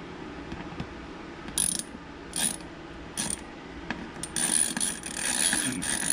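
Ratcheting and clicking as a wakeboard mount is tightened down onto a Sea-Doo GTX, short bursts of mechanical clicks over a steady background hiss, fairly close and moderately loud.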